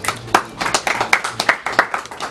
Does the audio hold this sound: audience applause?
yes